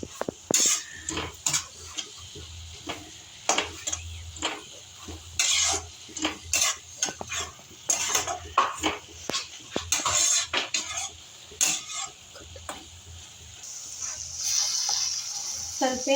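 A spoon stirs and scrapes an egg burger mixture seasoned with black pepper in a frying pan. The soft sizzle is broken by frequent metallic clinks and scrapes, heard close up.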